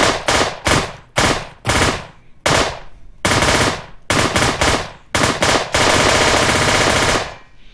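Repeated short bursts of gunfire and bullet impacts in Virtual Warfighter, loud and sharp, separated by brief gaps, ending in a longer sustained volley.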